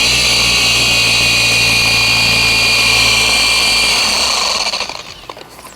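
A RUPES polisher with a wool pad runs at speed 2 on car paint, a loud steady motor whine with a constant tonal hum that holds for about four seconds, then winds down and trails off.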